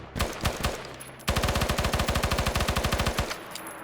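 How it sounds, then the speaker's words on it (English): A Stoner rifle fires in Arma 3's Prairie Fire DLC: a few spaced shots, then a sustained rapid automatic burst of evenly spaced, loud, close cracks that stops abruptly. "Yeah, it's the Stoner rifle."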